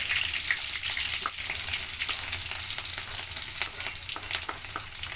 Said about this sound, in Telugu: ఆయిల్ వేడైపోయింది పప్పు దినుసులు వేసుకున్నాం కదా అదే టైంలో మనం దీంట్లో పచ్చిమిర్చి వేసేసుకుందాం ఫ్రెండ్స్ అలాగే ఉల్లిపాయ కూడా వేసేసుకుందాం